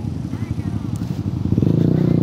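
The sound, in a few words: group of motorcycles riding, including a Honda ADV160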